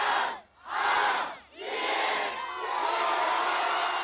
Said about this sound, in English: Local media estimated 1 million people came to cheer in 2023.